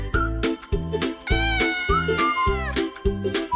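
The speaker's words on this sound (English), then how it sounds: "It's a cat." A cat meows repeatedly in a series of clear, close, drawn-out calls, including one longer wavering cry, with no other sounds.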